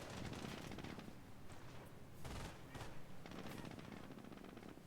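Dense, continuous machine gun fire from the Company of Heroes video game, with rapid overlapping bursts and shots rattling without pause throughout, along with explosions and other battle noise.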